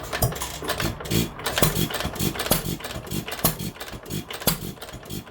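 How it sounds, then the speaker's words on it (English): A Stover KE 1 1/2 hp hit-and-miss engine spun over by hand with the choke covered, rhythmic chuffing and thumping cycles, close and fairly loud, no talk. "I'm going to hold my finger over top that little choke hole and I'm going to spin it over once"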